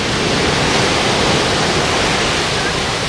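Ocean waves crashing over rocks on the West Coast, a loud, dense, continuous roar of surf and spray with no distinct breaks, close and unrelenting.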